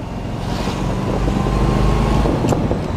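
A 1974 Chevrolet Corvette cruising on a sunny California road, its engine giving a steady, loud low rumble with wind and road noise throughout and no talking.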